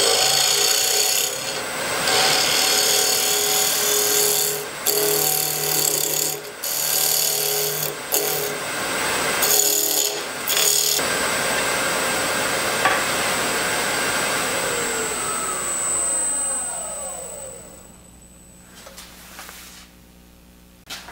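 Wood lathe spinning a workpiece as a tool rounds it over, a loud continuous scraping rasp with brief cutoffs, then the motor winding down into a fading whine near the end.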